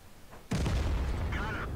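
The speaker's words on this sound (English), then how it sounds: "So I decided to shoot him, and RNG helped me out there." A single heavy artillery shot booms and lands on a tank in World of Tanks, a sudden loud blast that rolls on with a rumbling tail, with speech over it.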